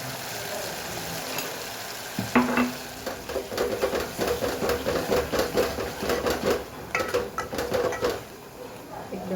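Masala frying and being stirred in a pan: a soft sizzle under repeated scraping, rhythmic stirring strokes, close and moderately quiet, with a brief clink.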